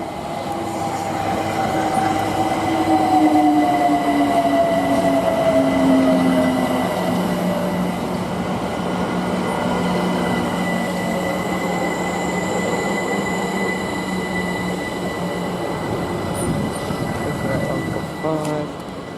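Trains passing at Denmark Hill station, a class 66 locomotive and a class 465 electric unit, giving a loud continuous rumble with descending wheel squeal and steady rail noise, close by.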